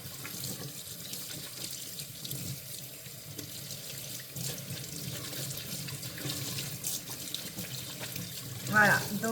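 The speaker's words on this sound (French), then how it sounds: "donc je rince bien comme il faut" Tap water runs steadily into a sink while grease-stained trousers are rinsed beneath the stream, a continuous moderate splashing with a brief louder surge near the end.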